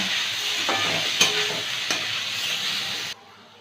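Salt and turmeric fry with oats recipe ingredients in a hot pan, a loud, steady sizzle broken by a couple of spoon knocks, then cutting off abruptly to near silence.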